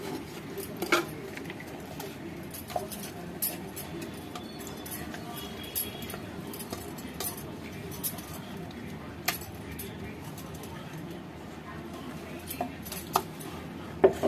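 A spoon stirs oil-and-spice tempering into a coconut and raw mango chutney, giving sporadic light clinks and scrapes against the bowl while someone talks.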